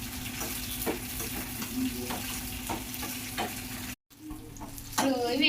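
Chillies sizzle and spit in hot oil in a pan, a dense steady crackle with rhythmic stirring scrapes, briefly cut off, then returning louder with bubbling frying.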